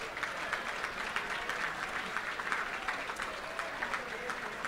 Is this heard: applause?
yes